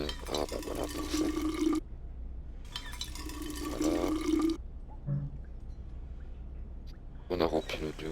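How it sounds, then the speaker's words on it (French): Water runs from a tap into a flask in the video game We Happy Few, two close bursts of pouring with quiet gaps between and a brief spoken word near the end. "Je vais peut-être pouvoir remplir ma gourde"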